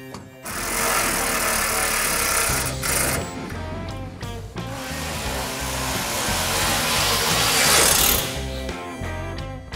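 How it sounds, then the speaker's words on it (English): A ratchet tightening bolts during final assembly of a Hemi convertible, giving a close, loud, sustained rasping mechanical whir with short breaks and bursts, while background talk continues quietly. "This one needs to go in just a little bit, right to there, and tighten down."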